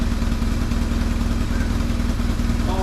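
A home-built adventure motorcycle's engine runs steadily after three years in storage, a loud close idle with a fast regular pulse and some loose rattling.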